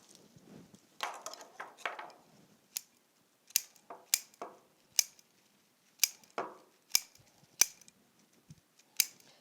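Scissors snip a huckleberry plant being trimmed into a small Christmas tree, giving a run of sharp, close, separate clicks at an uneven pace with soft rustling of the foliage between cuts.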